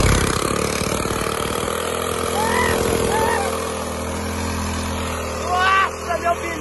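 Motorcycle with a loud aftermarket exhaust pipe idling and revving nearby in a town street, a steady engine rumble with a sharp rev near the end, while people talk over it.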